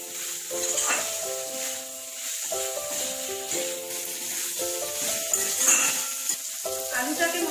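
Chicken and fried potato sizzle in a pan of spice masala, a soft steady crackle and hiss with stirring scrapes, while a voice speaks faintly over the cooking.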